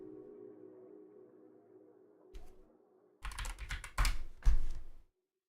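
Computer keyboard typing comes in short bursts of close, crisp clicks after a quiet low hum, with one isolated tap before a dense flurry of keystrokes that stops abruptly.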